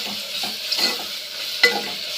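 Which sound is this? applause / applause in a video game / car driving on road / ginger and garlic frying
ginger and garlic frying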